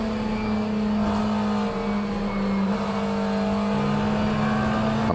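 A McLaren 720S GT3 race car engine in a racing video game, heard from onboard, holding a steady high-pitched drone with a slight dip and shift in tone, loud and continuous.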